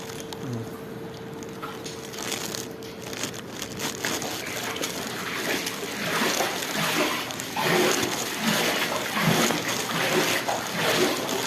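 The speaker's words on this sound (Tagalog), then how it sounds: "Baha dito sa kanto." Floodwater sloshing and splashing steadily through a flooded street corner in Thuwal, Saudi Arabia, a continuous watery rush with scattered splatters, fairly close and moderately loud, no voices.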